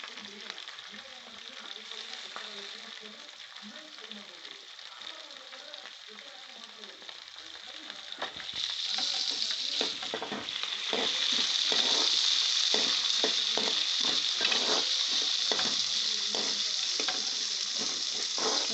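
Two finely chopped onions sizzle and fry in a pan for masala avalakki, quiet at first and then swelling into a louder steady crackle, with scraping stirs and occasional clinks breaking through.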